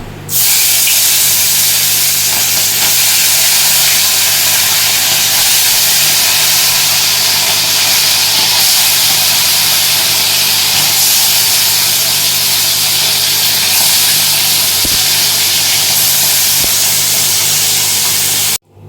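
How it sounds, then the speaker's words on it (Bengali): Bata fish pieces fry in hot oil in a home kitchen, giving a loud, continuous sizzling hiss that holds steady from start to finish with no talking. "তেলটা গরম হয়ে গেছে এর মধ্যে এবার মাছগুলো এক এক করে দিয়ে ভেজে নেব"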